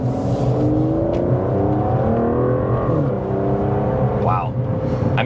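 An Aston Martin DBS Superleggera pulls onto an open road, its engine rising steadily through the revs with a smooth, strong drone heard from inside the car, while people talk over it.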